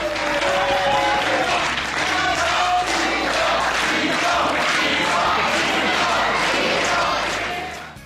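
A loud wrestling arena crowd chanting for the wrestler Poi, dense roaring voices and rhythmic shouting sustained throughout, close and full.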